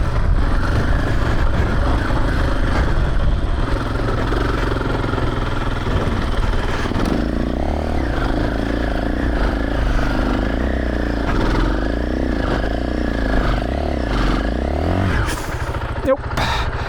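A dirt motorcycle climbs a steep hillclimb in second gear, its engine droning loud and close with revs rising and falling. The rider talks over the engine noise.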